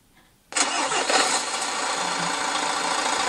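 A V8 diesel tow truck engine of 540 horsepower cranks and fires after a brief quiet moment, then settles into a steady, loud idle rumble.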